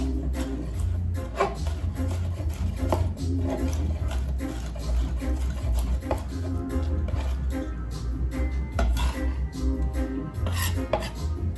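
Knife chopping vegetables on a cutting board while preparing Jamaican curry goat, steady repeated taps at a moderate pace, fairly quiet with a low kitchen hum underneath.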